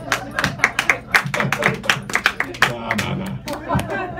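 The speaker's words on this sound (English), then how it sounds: "Is that my wife clapping?" Clapping from a comedy club audience, a quick run of sharp, close hand claps that slows and fades toward the end.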